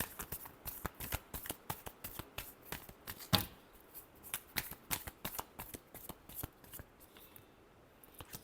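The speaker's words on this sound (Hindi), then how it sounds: "Last shuffle." Tarot cards are shuffled by hand in a quick, crisp run of riffling snaps and flicks, close and fairly quiet, with no talking.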